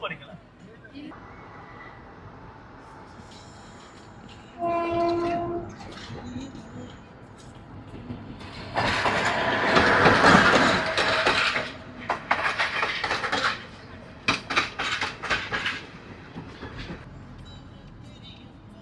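A train rumbles along the seaside railway track in Colombo, the rushing, clattering passage building in the middle and then breaking into rhythmic bursts, with a horn-like tone earlier and people talking throughout.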